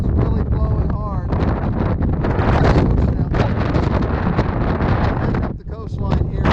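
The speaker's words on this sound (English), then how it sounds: "the wind is really blowing hard" Strong wind blasts into the microphone on a coastal hike on the Isle of Skye, a loud, steady roaring buffet that barely lets up, with voices faintly audible beneath it.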